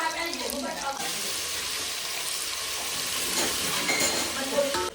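Food sizzles and fries steadily in a pan over a coal fire outdoors, a continuous broad hiss with faint crackles throughout and no talk.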